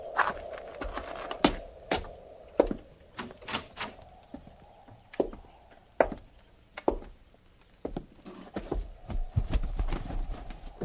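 Sound-effect horses' hooves clip-clop in an irregular, uneven pattern of sharp knocks over a low steady hum, moderately close, in a Western radio drama, with no voices.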